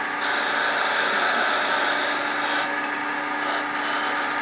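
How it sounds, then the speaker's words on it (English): Skew chisel cutting beads into wood spinning on a lathe, a steady close rasping hiss with a constant motor whine underneath, fairly quiet and uninterrupted. "So this is a really good skew angle for turning beads."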